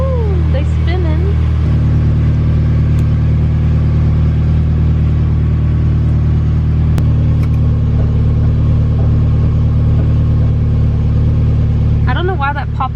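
Mazda Miata up on jack stands starting up and running, a steady loud engine rumble throughout with someone talking over it at the start and end.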